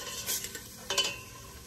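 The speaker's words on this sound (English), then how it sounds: "So I'm just going to saute them a little bit until those onions are translucent" Chopped onions and garlic sautéing in a pan, with a few short scraping stirs of a utensil over a faint, quiet sizzle.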